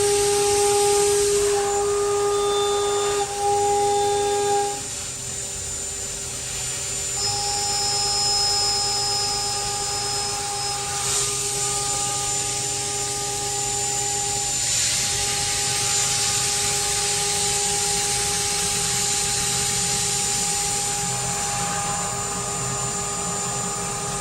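Milltronics CNC mill cutting aluminum with steel inserts, a steady loud machining whine with sustained tonal squeals that shift pitch partway through, running continuously without talk.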